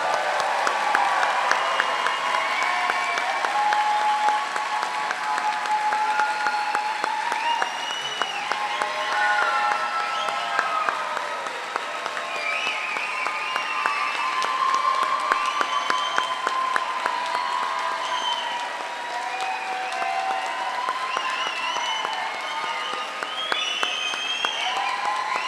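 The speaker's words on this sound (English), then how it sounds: "Let's have another round of applause for the class of 2027." An audience applauds steadily at a dental college white coat ceremony, with dense, continuous clapping that holds for the whole stretch.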